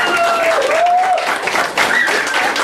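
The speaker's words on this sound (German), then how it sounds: "einen kräftigen Applaus." Wedding guests applaud loudly and steadily, close-up clapping mixed with crowd noise and a few whistles over a couple of seconds.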